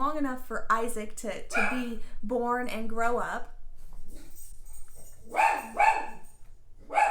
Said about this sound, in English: Sorry about my dog, he's a barker.